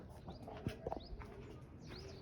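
A pigeon kept at home coos in soft, low repeated notes, close by, with some brief chirps and light rustling in the background.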